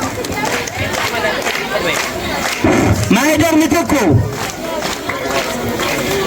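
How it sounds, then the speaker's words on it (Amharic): A crowd claps and cheers for a graduating girl at a school graduation, with a rising swell of shouts and applause over busy chatter and a voice calling out. "አጨብጭቡላት።"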